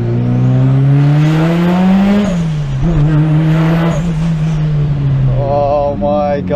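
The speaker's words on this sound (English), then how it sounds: "The exhaust is loud." Mazda FD RX7 with a loud exhaust accelerating hard, its rotary engine note climbing through gears with sharp upshifts, roaring close and continuous before easing back toward the end.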